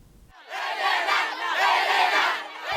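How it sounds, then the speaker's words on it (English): A stadium crowd at the NCD school grand finals at Sir John Guy Stadium roars loudly and continuously, a dense swelling cheer with no break. "the crowd cheered on their favorite teams"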